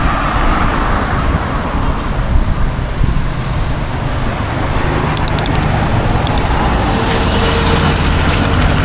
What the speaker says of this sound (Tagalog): Nakakatakot lang dito guys, ang lalaki ng sasakyan.